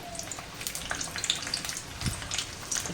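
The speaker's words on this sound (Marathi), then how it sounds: "तो लसूण मी आता तळून घेते तो लसूण आपल्याला अगदी छान असं तळून घ्यायचं आहे" Unpeeled garlic cloves fry in hot oil for a chana koliwada recipe, giving a steady low sizzle with scattered crackles and pops, close and fairly quiet, with no talking.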